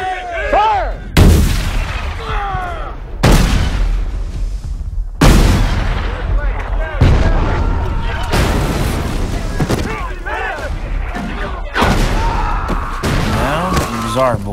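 Civil War artillery cannons fire in a Gettysburg battle reenactment film, a series of loud, heavy booms spaced a second or two apart, each ringing out with a long echoing tail, mixed with shouting and film sound.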